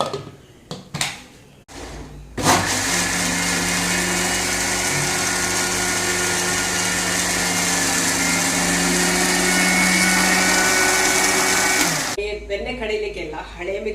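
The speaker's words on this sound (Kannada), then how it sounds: "ಇವಾಗ ಅದಕ್ಕೆ ನೀರು ಹಾಕಿ ಇದನ್ನು ಗ್ರೈಂಡ್ ಮಾಡ್ತೇನೆ" A kitchen mixer grinder grinds masala with added water in one loud, steady run of about ten seconds, with a little talk and clatter before it and after it stops.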